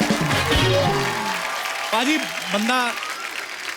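Studio audience clapping for a singer on a comedy talk show, a loud wash of applause with voices talking and exclaiming over it.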